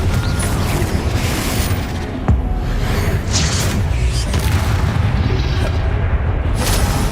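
Confringo spell explosions in the Hogwarts Legacy video game, loud booming blasts and rumbling impacts filling the mix continuously with little pause.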